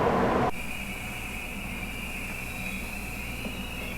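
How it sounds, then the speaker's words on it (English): A Seoul Metropolitan Subway train arriving at a station, heard as a steady mechanical rumble with a sustained high tone from the train, loud and close throughout, following a brief burst of louder noise at the start. "And then train's coming."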